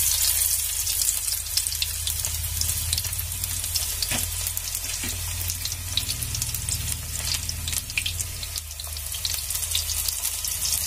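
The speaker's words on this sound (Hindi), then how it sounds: "यहाँ गर्मा गर्म तेल में ये डाल रही है" Soy chunk pakoras frying in hot oil in a home kitchen, a steady broadband sizzle that holds loud and close throughout, with a few sharper crackles and pops over a low hum and no talking.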